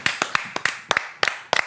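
Scattered hand claps from a small group, in short bursts of two or three separated by brief pauses, fairly close and sharp.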